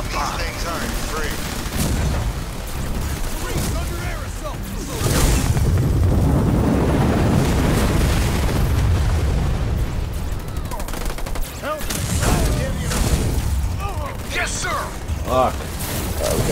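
Artillery explosions and heavy gunfire in the video game Halo Wars 2 during a Blitz match, repeated booming blasts and rattling bursts layered over in-game radio chatter and voices.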